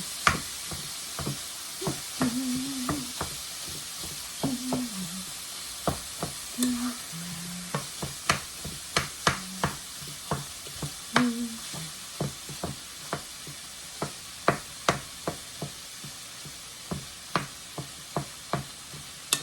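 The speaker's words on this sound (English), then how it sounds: "Noodles are boiling." Bow tie pasta bubbles in a pot of boiling water, a steady hiss with scattered soft pops and clinks, plus a few faint low knocks and scrapes from utensils nearby.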